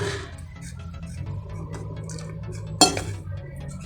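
A spoon stirs a thin paste of wheat flour and water in a bowl, giving soft repeated scraping and light clinks against the dish, with one sharper knock partway through.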